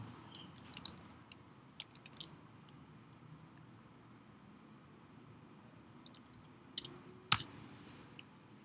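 Sparse keyboard typing and a few mouse clicks while a search is entered, soft scattered taps over quiet room noise, one sharper click near the end, no talking.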